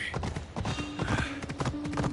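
Horse hooves in Assassin's Creed Odyssey clip-clop in a quick, uneven gallop rhythm, close and fairly loud, with a faint tonal sound partway through and no talking.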